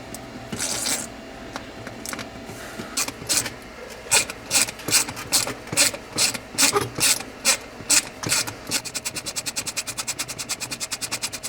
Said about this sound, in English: You can use a 9/32 wrench to aid the process.